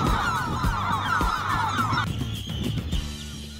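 Seabird colony with greater black-backed, herring and lesser black-backed gulls and their nearly fledged chicks: a continuous chorus of overlapping honking, squawking calls, steady and fairly loud, with a shift in pitch partway through.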